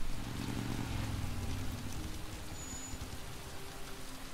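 Steady rain from the game Heavy Rain hisses throughout, patter spread evenly over a low rumble, fairly soft and continuous with no voices.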